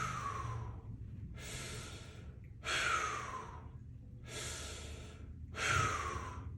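Close, steady breathing during a weight-holding exercise: five slow, audible breaths, each an airy exhale that trails off, with quieter inhales between.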